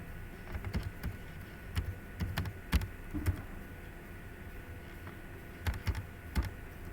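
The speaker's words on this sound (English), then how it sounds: "and let's type in something" Keys tapped on a computer keyboard while text is entered in Photoshop, coming in short irregular bursts of soft clicks with pauses between, close and fairly quiet, no talking.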